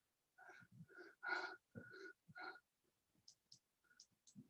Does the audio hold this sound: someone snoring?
yes